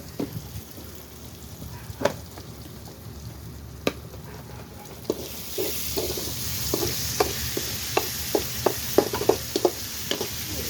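Frying in a pan for egg curry, a quiet sizzle with occasional utensil taps that builds into a louder, denser frying hiss with rapid scraping strokes toward the end.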